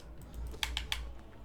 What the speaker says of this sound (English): the noise of a mechanical keyboard